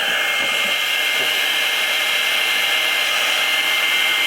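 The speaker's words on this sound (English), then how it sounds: "we'll use the heat gun for the top part" A heat gun blows steadily on the fabric covering of a Sopwith Camel model wing, a loud, even, whooshing airflow that runs unbroken throughout with no talking.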